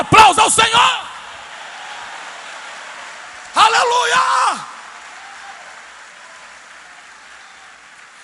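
A church congregation bursts into loud cheering and shouting twice, each outburst a second or so long with quiet between, voices raised in exclamation with some applause mixed in.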